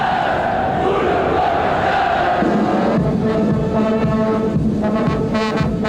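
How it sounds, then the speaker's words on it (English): A capacity crowd of about 15,000 fills Ahoy Stadium in Rotterdam before an evening tractor pulling session, with a band warming them up; a loud, steady wash of crowd roar and music-like drones runs throughout. "The band warming up the capacity crowd who are in their places and ready for the evening session."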